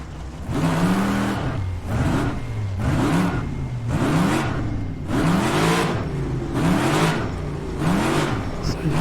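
A race car in the rFactor 2 sim racing game repeatedly accelerates and brakes, the engine revving up and dropping back in regular waves about once a second, loud and close throughout.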